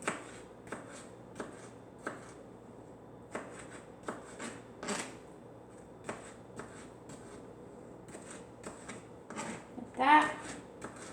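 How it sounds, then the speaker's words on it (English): A knife chops a tomato into small pieces on a cutting board, producing a series of sharp, irregular taps and thuds with soft shuffling between them and one louder cluster near the end. "The tomato, you want to cut it like this, like small pieces."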